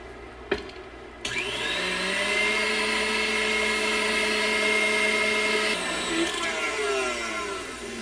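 Electric hand mixer whirring steadily as it beats eggs, egg yolk and sugar in a bowl, starting abruptly after a brief knock and running loud and continuous, with its pitch shifting slightly near the end.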